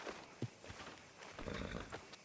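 Horse hooves clip-clop in Red Dead Redemption 2 near a sheriff's office, a close, steady walking rhythm under a continuous ambient bed with no talk.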